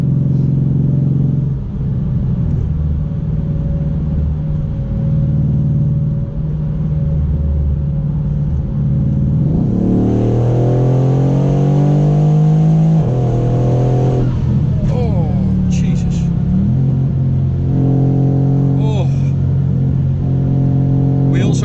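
A 1200 hp Mercedes C63 AMG Black Series engine revs and rumbles, rising in pitch through several bursts of acceleration, with people talking over it.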